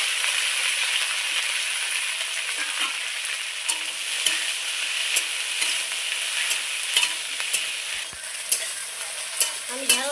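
Okra frying in hot mustard oil with green chili and black cumin, a bright, constant sizzle close up, punctuated by repeated sharp scrapes and knocks of a spatula stirring, more frequent toward the end.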